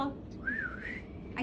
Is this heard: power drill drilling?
no